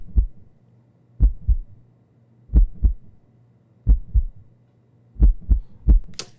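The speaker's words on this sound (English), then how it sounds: "let me show you the heartbeat sound on its own" A heartbeat sound effect used as a production element in a music track, heard alone: deep, loud lub-dub double thumps repeating steadily about every one and a third seconds, with a soft hum between beats.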